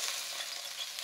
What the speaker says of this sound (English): you hear that sizzle. That sizzle lets you know that the pan is right.